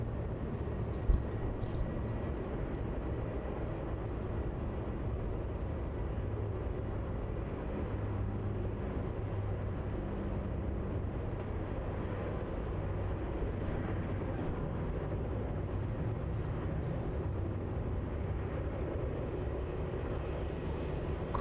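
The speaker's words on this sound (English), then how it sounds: "the Virgin 737. Entering the runway on taxiway Juliet and making a quick departure up to Sydney" A Virgin Boeing 737 departs Melbourne Airport for Sydney, a steady broadband jet roar held at even loudness throughout, fairly distant, with no talk over it.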